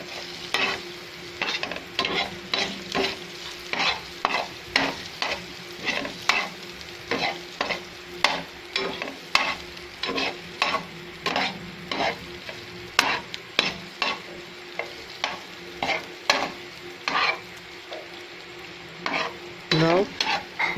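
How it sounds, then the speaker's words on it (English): Round slices of boiled egg being mixed with masala in a hot pan, a steady sizzle broken by regular clinking spatula strokes scraping and stirring about once or twice a second. "Now take boiled eggs and cut round slice and add it and mix with masala."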